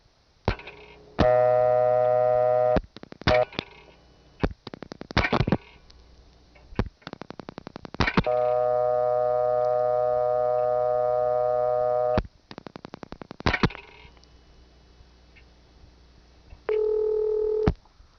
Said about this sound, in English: we're actually dialing into a first selector, which gives us an immediate dial tone, which we can dial right through the switching train to control